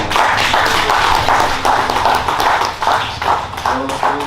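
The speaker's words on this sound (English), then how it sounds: "So I want to just give a big round of applause to Derek James" A crowd at a boxing press conference claps for Derek James, a dense, steady round of applause with no voices rising above it.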